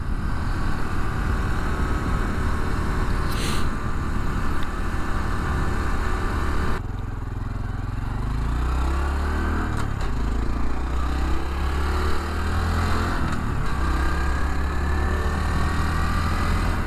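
A 2021 Honda Trail 125, a small air-cooled 125 cc motorcycle, drones steadily while being ridden, its engine note rising and shifting with throttle changes under constant wind rush, with no voices.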